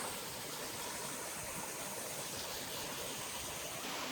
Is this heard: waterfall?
yes